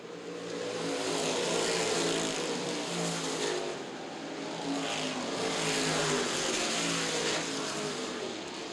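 CRA Street Stock race cars lap the Winchester oval at the 2013 Winchester 400 weekend, a loud, sustained roar of several engines that swells and fades as the pack passes, with no talk heard.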